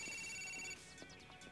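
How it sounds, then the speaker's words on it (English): A telephone rings in the video game GTA IV, a steady electronic tone that cuts off partway through and is followed by faint game background sounds, moderately quiet. "The phone's ringing."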